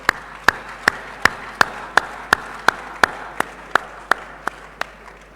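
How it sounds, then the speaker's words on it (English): At a ceremony for a book launch before a royal guest, sharp claps strike singly at a slow, even rhythm, about fourteen in a row, loud and close with nothing else over them. "A round of applause"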